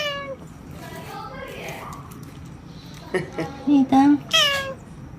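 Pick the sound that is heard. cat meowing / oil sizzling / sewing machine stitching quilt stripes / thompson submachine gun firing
cat meowing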